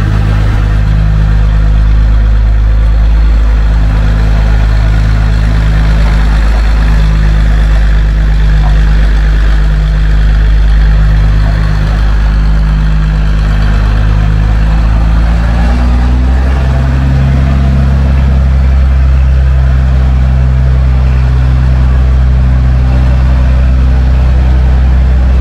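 A large Unimog truck's diesel engine rumbles steadily near a garage, holding a low idle, then shifts pitch partway through as it begins to move, loud and continuous with no talk.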